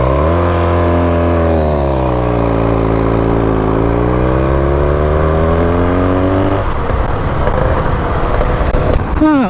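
A 1930 Scott Flying Squirrel motorcycle engine pulls away loud and close, its rising and falling harmonic drone continuing steadily before breaking into rougher, busier running near the end.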